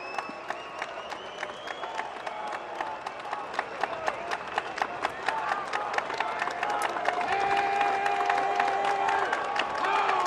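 Baseball stadium crowd at an Orioles–White Sox game clapping in a steady rhythmic beat with scattered cheers and whoops, building louder toward the end, the section joining in over a broad murmur.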